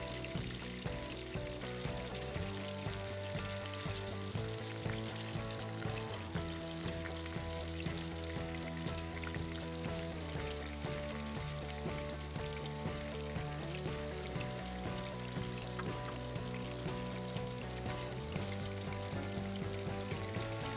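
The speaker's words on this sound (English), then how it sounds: "it's pouring outside, so you hear the background noise there" Heavy rain pours outside in a steady, dense wash of noise under faint background music, continuous and unbroken for the whole stretch.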